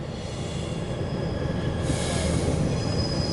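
Loaded CSX coal train rolling steadily past at close range, its wheels giving off a continuous high squeal over a dense rumbling roar, with no voices.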